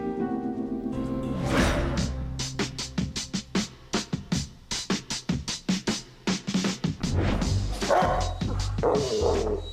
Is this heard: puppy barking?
yes